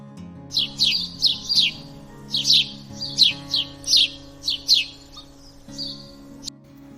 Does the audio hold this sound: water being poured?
no